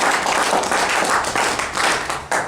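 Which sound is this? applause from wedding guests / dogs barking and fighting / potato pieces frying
applause from wedding guests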